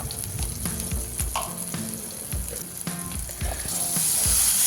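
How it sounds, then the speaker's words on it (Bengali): Tomato with turmeric, Kashmiri chili and coriander powder sautéing in a pan for a charapona fish curry, a steady close sizzle with repeated scraping strokes of a spatula, building slightly louder toward the end. "আর সামান্য জল দিয়ে মশলাটা ভালো করে কষিয়ে নেব"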